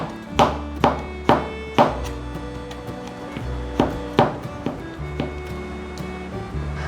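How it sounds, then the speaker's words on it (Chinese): A knife chops fresh shiitake mushrooms on a cutting board in crisp, regular thuds: several quick strikes, a brief pause, then another run of firm, close cuts. "把鲜香菇的角切下来，这里切片。"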